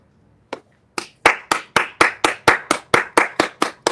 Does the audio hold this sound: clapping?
yes